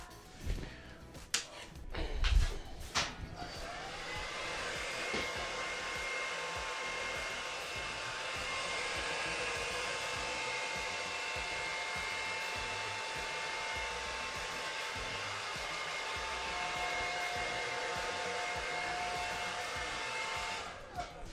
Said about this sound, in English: So now I'm just going to quickly dry this with a hairdryer.